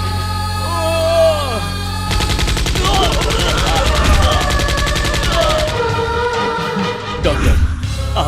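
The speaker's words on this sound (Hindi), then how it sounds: "गोली मत चलाओ, रुक जाओ, गोली मत चलाओ" Gunfire in an action movie scene: a dense, loud burst of rapid automatic shots rattling for several seconds, with shouting voices and dramatic score around it.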